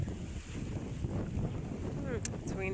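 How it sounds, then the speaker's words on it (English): Gusty wind blowing across a rocky garden, a steady broad rush buffeting close up with no clear breaks, a few faint high chirps near the end. "It's windy."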